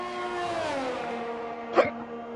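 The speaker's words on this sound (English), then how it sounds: "Sorry, I've got the hiccups, my bad." One short, sharp hiccup from a commentator pops out over a continuous car engine drone, brief and fairly close.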